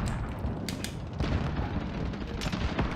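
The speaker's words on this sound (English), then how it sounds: "What the hell's that? Some kind of LMG or something?" LMG machine gun fire in Call of Duty Warzone, a dense, continuous rattle of rapid shots with booming low end throughout, loud and steady for the whole stretch.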